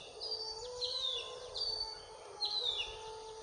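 Several birds call with bright, repeated chirps and whistled notes in a forest at Athirappilly in the morning, a steady chorus over a low hum of ambient background.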